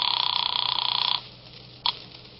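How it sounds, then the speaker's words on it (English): An old-time radio drama telephone rings loudly in a rapid electric bell trill for about a second, stops, then gives one brief short burst, with no voices over it. "I got to a phone as fast as I could and called Billy at the paper"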